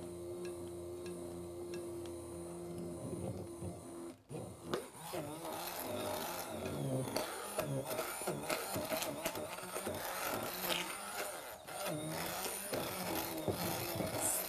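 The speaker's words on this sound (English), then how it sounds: "It's getting quite thick, as you can hear from the sound of the mixer." An electric mixer beats thickening vegan dulce de leche, its motor whirring steadily and close up for the whole stretch, with a brief dip in the drone partway through.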